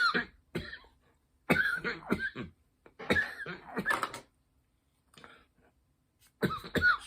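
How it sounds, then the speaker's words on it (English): Repeated harsh coughing after a strong hit from a wax pen vaporizer, coming in several loud bursts separated by brief pauses, close and alone. "sometimes those hits are so strong, cough my head off"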